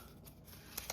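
Scissors trim paper card for a pop-up gift card holder, a couple of quick, crisp snips close by near the end of a quiet moment with no talking.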